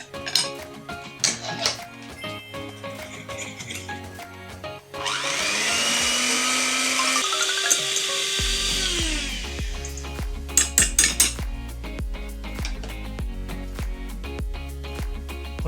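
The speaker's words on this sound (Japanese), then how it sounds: "湯煎しながらメレンゲを作っていきます" An electric hand mixer whips egg whites and granulated sugar into meringue in a large bowl set over a hot water bath, a loud steady whir running for several seconds, then deepening as the mix stiffens, with clinks of the bowl around it.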